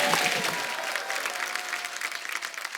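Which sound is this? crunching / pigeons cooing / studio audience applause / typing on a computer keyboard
studio audience applause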